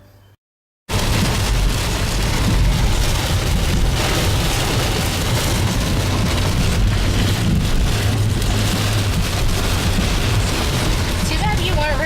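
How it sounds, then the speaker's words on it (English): A heavy, roaring downpour of rain, dense and steady throughout after a brief quiet start, with a low rumble underneath. "I filmed some footage of the crazy torrential downpour"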